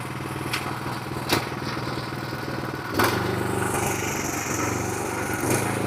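A power tiller engine with a clutch system runs steadily with its gear engaged, a loud close chugging drone with a few sharp clanks and a slight surge partway through.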